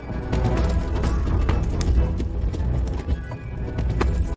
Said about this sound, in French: un troupeau de yaks l'a brutalement interrompu